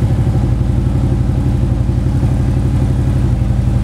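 A Harley Davidson Road Glide Custom FLHTRX motorcycle engine runs steadily at a loud, close idle, its deep rhythmic lumpy pulse continuous throughout with no talking.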